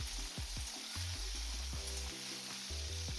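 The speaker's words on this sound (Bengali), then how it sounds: "এই 3 টুকরো আদা আর এই 7টা কাজু দিয়ে আমি এটাকে এবার ভেজে নেব।" Pieces of ginger and cashews fry briefly in a pan, giving a soft, steady sizzle heard close by, with a low hum underneath.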